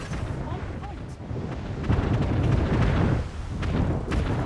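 Ship cannons fire in the Anno 1800 video game, a rolling series of heavy booms that swells and carries on through the clip.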